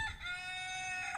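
A rooster crows in a sustained, bright call, loud and close, with hens clucking faintly underneath.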